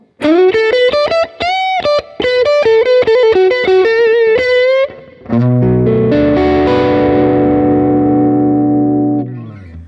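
PRS SE Santana Abraxas electric guitar played through distortion on the neck pickup: a quick run of clipped single notes, then a sustained ringing chord that slowly fades, loud and alone.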